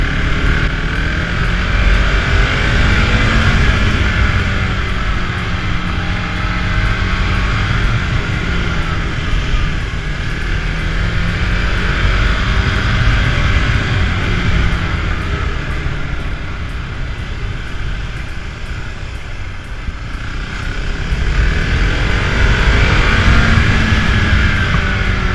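KTM Duke 690 single-cylinder motorcycle ridden on the road, a loud continuous engine drone with heavy wind rush, easing slightly before building again near the end.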